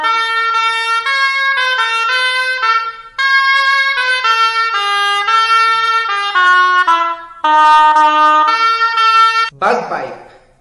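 A shawm, a medieval double-reed instrument resembling an oboe, plays a bright, nasal, buzzing melody of held notes in loud phrases with short gaps, ending in a brief noisy burst.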